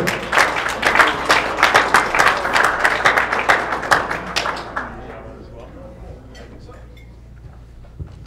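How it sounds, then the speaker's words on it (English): An audience applauds a moderator at a legislative review luncheon, a loud burst of steady clapping that gradually thins out and fades to quiet by the end. "If we can give him a round of applause, I'd appreciate it."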